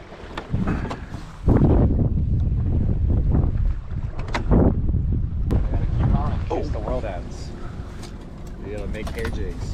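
Wind buffets a boat out on the Chesapeake Bay during a late-fall striped bass fishing trip, a steady loud rumble of gusts across the microphone with water and gear noises mixed in.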